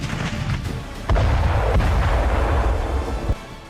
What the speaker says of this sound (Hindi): ये चालबाज चीन की सबसे विध्वंसक तोप है